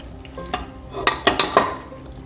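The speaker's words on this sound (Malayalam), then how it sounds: "നമുക്ക് ആ ഇറച്ചി ഒന്ന് ഇളക്കി വാങ്ങി വയ്ക്കാം" Fried chicken pieces for dum biryani stirred with a utensil in a pressure cooker: a few scraping, clinking strokes over a faint sizzle, close by, with the louder strokes bunched near the end.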